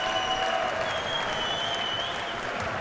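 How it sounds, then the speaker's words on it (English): A darts match crowd applauds steadily and densely for a player, a continuous wash of clapping that fills the hall without a break. "As the crowd just gives Suljovic one final lift here"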